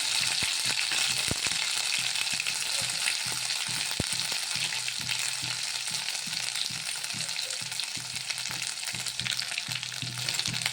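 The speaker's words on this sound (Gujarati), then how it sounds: "તો અહીં આપણું રાઈ જીરું સારી રીતે કકડી ગયું છે।" Mustard seeds, cumin, green chillies and ginger frying in hot oil for samosa filling, giving a loud, constant sizzle dotted with sharp popping crackles from start to finish, with no voices.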